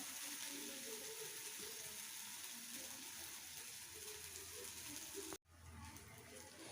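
Goli masala spice paste sautéing in a pan for an Indori-style cowpea pod curry, giving a steady, close hiss of sizzling that runs without a break, then stops abruptly near the end before resuming.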